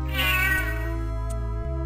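A cat in the video game Snatcher meows in a single drawn-out, wavering cry over a steady low synthesized background tone.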